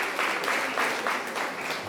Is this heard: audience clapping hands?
yes